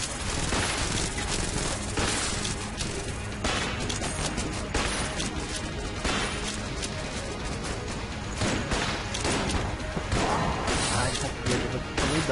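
Rapid, dense bursts of gunfire from the Hexagon gun in Enter the Gungeon, loud sharp cracks and impacts firing almost continuously over a steady background of game noise.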